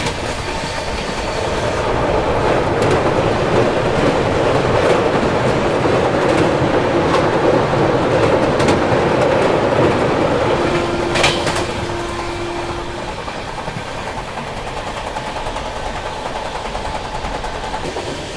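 Goa Rajdhani Express running on rails near Dahod, Gujarat, after crossing the Anas river: a steady, loud onboard rumble with rhythmic clickety-clack of wheels over joints, plus a brief metallic squeal partway through.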